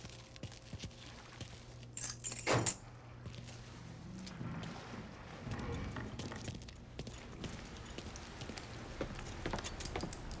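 Car keys jangling in Mafia 3, a brief bright metallic rattle lasting under a second, fairly close, followed by quiet ambient noise and faint movement sounds.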